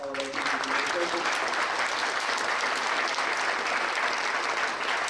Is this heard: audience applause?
yes